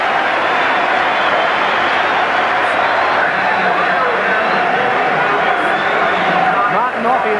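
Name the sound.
stadium crowd cheering Widnes as World Club champions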